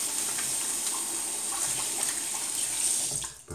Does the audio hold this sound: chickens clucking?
no